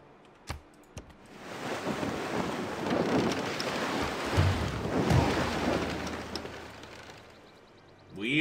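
A storm in the Civilization 6 video game: steady hissing rain swells and fades with low rumbles of thunder, framed by a few sharp clicks at the start and end.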